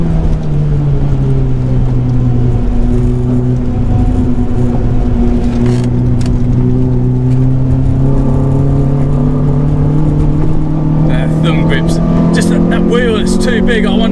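Renault Clio 182 engine pulling hard to high revs, a loud continuous in-car drone with rising pitch as it accelerates, steady and close throughout.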